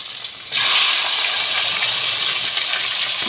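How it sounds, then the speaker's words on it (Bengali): A rohu fish head drops into hot oil and sets off a sudden loud, steady sizzling hiss that carries on without a break, close up and with no voices. "মাছের মাথাটা তেলের ভেতরে ছেড়ে দিলাম"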